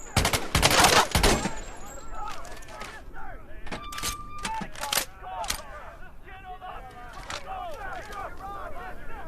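An M1 Garand rifle fires in the Medal of Honor: Above and Beyond VR game, opening with a loud burst of shots in quick succession, followed by a few separate single reports over busy game ambience.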